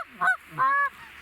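Geese honking during a snowy goose hunt, two clear nasal honks from the passing flock, moderately close and heard alone without talk.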